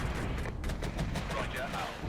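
Enemy weapons firing in the Regiments war game: steady, dense gunfire and distant booming artillery fill the whole stretch, with a voice talking over it.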